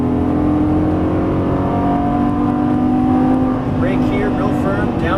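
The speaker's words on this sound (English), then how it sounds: "Just hold it full throttle in 4th gear." Loud, close engine roar from a Lamborghini Gallardo LP550-2 held at full throttle in fourth gear on a track, a sustained high drone that climbs steadily, with a driving instructor speaking over it.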